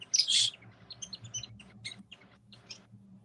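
A pet finch sings quietly indoors, a brief bright burst of notes followed by scattered soft chirps and tweets over a low background hum.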